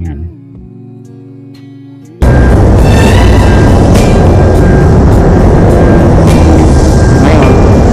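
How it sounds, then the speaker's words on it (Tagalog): Loud, dense street traffic roars steadily from a roadside after a brief quieter opening with soft tonal music. "gusto nyo tanggalin yung ingay ng paligid ng kalsada"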